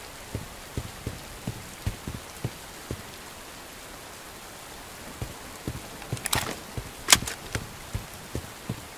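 Rain falls in the video game Bright Memory: Infinite as a soft steady patter with sharp individual drops ticking nearby. A few louder splashy hits come near the end, and no one speaks.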